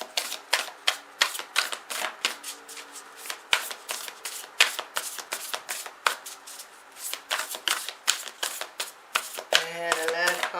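Oracle cards shuffled by hand in quick, even riffling bursts of crisp slaps and flicks that carry on for about ten seconds, close and clear, with a brief voice near the end.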